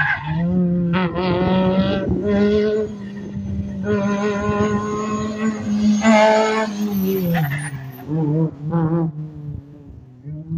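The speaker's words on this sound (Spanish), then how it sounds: "Escuchamos rugir de motores a la distancia y vamos a ver cuando se acerca a nuestro sector" A rally car in the Rally Santiagueño in Villa La Punta roars past, its engine revving hard through several rising and falling gear changes, loud and close, with a tire squeal.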